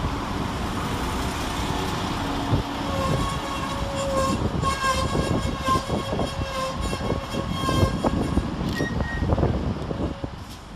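Two West Midlands Railway class 172 diesel units pull into Birmingham Moor Street station, a steady rumble of engines and wheels with squealing brakes and high tonal whines over busy platform ambience, continuous and fairly near throughout.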